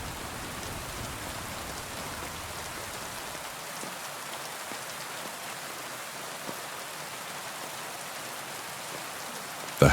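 Steady rain falls on a surface at night outside an old house, a dense even hiss of drops and patter that runs unbroken throughout, with no voices and a brief bump right at the end.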